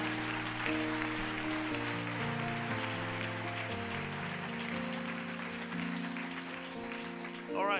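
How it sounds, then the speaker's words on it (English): A church congregation claps along under sustained organ or keyboard chords, the clapping soft and steady beneath the music throughout. "Come on, give him a hand clap."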